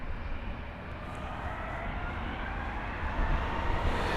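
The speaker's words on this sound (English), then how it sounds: "No, it's the A319 off to Glasgow." An Airbus A319 airliner departing London Heathrow for Glasgow gives a loud, continuous, rumbling engine roar that grows slightly stronger toward the end, with no talking.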